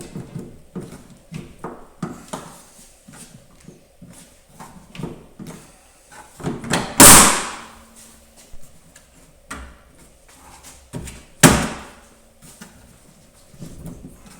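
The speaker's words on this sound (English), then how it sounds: "pull. You'll hear the clips pop out." Sharp plastic pops and snaps amid rustling and handling noise, with two loud cracks standing out as trim clips release from the upper hatch of a Volkswagen Golf Mk4; no talking.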